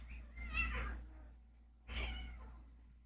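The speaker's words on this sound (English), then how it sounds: "If you hear my cats attack each other in the background" Two pet cats scuffle playfully indoors, one giving two separate drawn-out meows about a second and a half apart, faint and in the background under a steady low hum.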